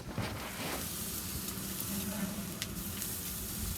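Flank steak sears on a hot Louisiana Grills kamado grill, making a constant close sizzle and crackle at fairly low volume.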